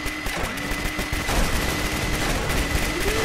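A broken minigun in a video game fires as a continuous rapid rattle of gunfire, loud and close, over a droning background tone with no talk.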